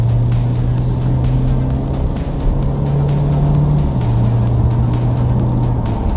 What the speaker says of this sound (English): it has a bit of a loud engine at the higher rev ranges